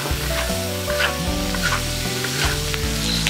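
Shrimp and spices hit hot oil in a wok, giving a loud, steady sizzle with stirring close by, while tonal background music plays underneath.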